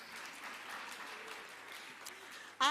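Steady applause from a conference audience fills the room for a couple of seconds, moderately distant, before a voice cuts in at the end.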